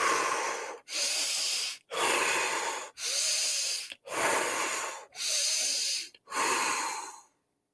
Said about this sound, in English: Quick breaths in through the nose,